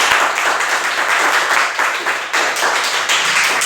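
A group claps loudly during a spoken English lesson, producing a dense, continuous patter of hand strikes with faint rhythmic pulses running through it.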